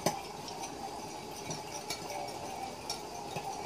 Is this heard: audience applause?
no